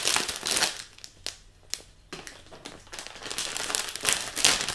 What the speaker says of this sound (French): Donc là je vais quand même le déballer pour vous le montrer un peu mieux.